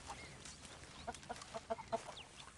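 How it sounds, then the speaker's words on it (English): Chickens clucking softly in Red Dead Redemption 2, a string of short, faint clucks scattered over a low ambient background. "Hey, we got chickens over here."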